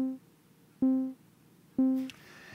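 An OPx-4 synthesizer plays a looped envelope that triggers short, bright plucks, three sharp tonal hits evenly spaced about a second apart, each decaying quickly, with a faint higher shimmer near the end.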